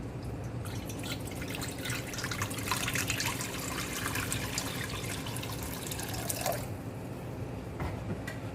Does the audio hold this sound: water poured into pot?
yes